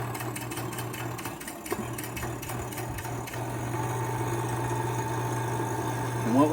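An electric vacuum pump runs steadily to evacuate the A/C system of a Dodge Viper, a constant mechanical hum with a low drone and faint rhythmic ticking, the tone shifting slightly midway.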